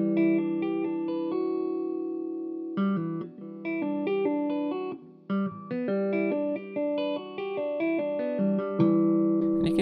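Finger-tapped electric guitar with effects and reverb picking out the root, third and fifth chord tones in quick repeating patterns, bright and close, with brief pauses between phrases in a math rock, Midwest emo style.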